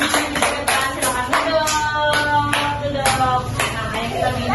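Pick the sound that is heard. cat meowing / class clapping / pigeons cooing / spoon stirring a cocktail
class clapping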